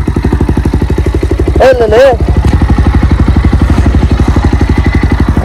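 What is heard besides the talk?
motorcycle engine running as bike is taken down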